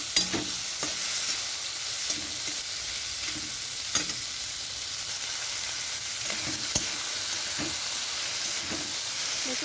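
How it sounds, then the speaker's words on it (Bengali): Prawns fry lightly in a little oil in a pan, making a steady close sizzle broken by occasional sharp clicks of stirring, with no talk. "অল্প তেলেই আর কি চিংড়ি মাছটা জাস্ট একটু হালকা ভেজে"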